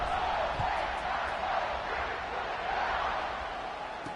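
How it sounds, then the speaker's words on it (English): A college football stadium crowd roars in a dense, steady wash of cheering and murmur after a score, loud and unbroken throughout. "this crowd is buzzing after that last score"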